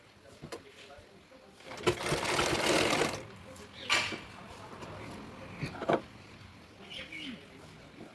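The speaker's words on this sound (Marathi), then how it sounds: "अर्धा इंचावर आपण शिलाई मारून घेणार आहोत" A sewing machine stitches a dress seam half an inch from the edge, running in short bursts of rapid mechanical whirring separated by pauses, close and clear, with a voice talking in between.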